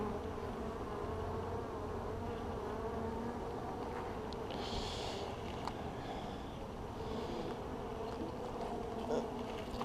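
Honey bees buzz steadily during a spring inspection of a beehive, a dense, continuous drone close to the microphone with a few louder passes of individual bees.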